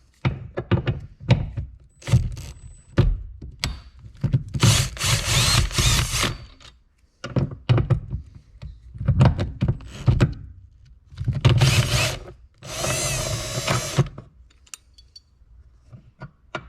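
Power drill working on a Tesla Model 3 tailgate latch, with repeated short bursts of whirring and several longer high-pitched runs, separated by clunks and brief pauses, all close up.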